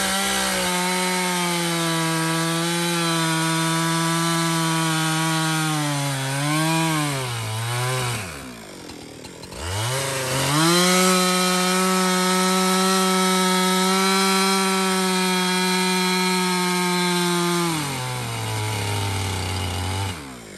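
Husky 365 chainsaw cutting wood, a loud, sustained engine whine that dips and rises in pitch as the chain bites, briefly easing off around the middle before revving back up.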